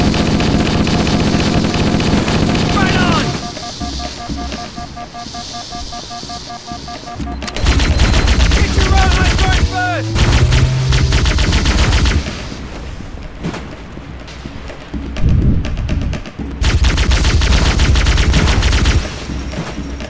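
Dense Halo CE gunfire rattles almost continuously in loud rapid bursts, with automatic weapons and heavier booming shots overlapping, broken by brief pauses and a short whine.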